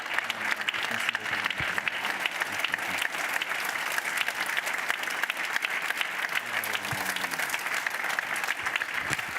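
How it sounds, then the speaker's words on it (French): Sustained applause from a live audience after a speaker finishes at a stage event, dense even clapping filling the room for several seconds, with faint voices underneath. "vous pouvez l'applaudir."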